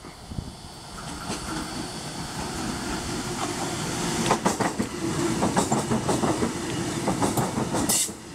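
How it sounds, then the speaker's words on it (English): A Waratah suburban passenger train runs past a station platform at Waverton, its steady rumble building with rhythmic wheel clatter and squealing, near and loud, with no one talking. "And we have Waratah passing platform number one."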